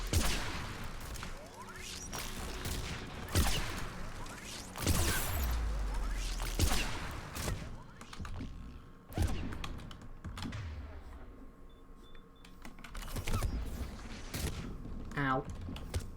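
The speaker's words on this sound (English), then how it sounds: "There, the anti-aircraft guns." Anti-aircraft guns firing in the video game Mass Effect 3: heavy booming shots and sharp cracks repeat every second or two over a constant rumble, loud and near, with occasional voices mixed in.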